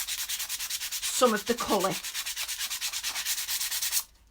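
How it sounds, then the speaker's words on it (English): Rhythmic hand sanding of a painted surface, steady back-and-forth rasping strokes close up and fairly loud, continuing for about four seconds before stopping, with a brief spoken phrase partway through. "I'm sanding frantically"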